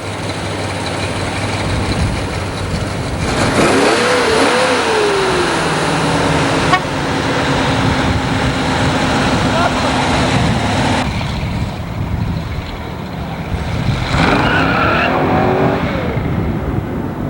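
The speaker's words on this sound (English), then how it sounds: "The big Dave Hallam race car with the Test Nova" A Nova race car revs hard on a road scarred with rubber and dug pits, its loud engine roaring and rising in bursts with tire squeal, close and continuous over background traffic noise.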